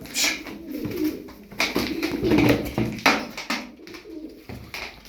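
Young tumbler pigeons coo and rustle close by in repeated soft bursts, the cooing rising and falling with brief fluttery noises between calls.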